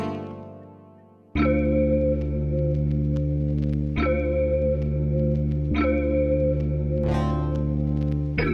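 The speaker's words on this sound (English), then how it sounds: "So I can go to burst echo" Native Instruments Maschine burst echo effect on a sustained synth chord pattern, loud and steady, retriggering about every one and a half seconds with bright echoing bursts layered over a deep bass bed.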